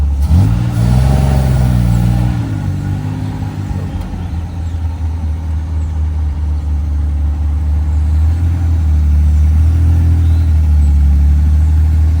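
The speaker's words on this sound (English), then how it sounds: "So let's try taking it for a drive and see how we do." A 1967 Austin Healey 3000 Mark III 2+2 revs its engine and pulls away in second gear, a loud, close, low throaty rumble rising and falling through the drive with no talking.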